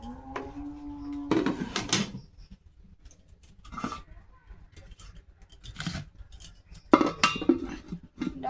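A lid is set on a cooking pot of curry, making several short metallic clinks and clatters spaced a few seconds apart against an otherwise quiet kitchen.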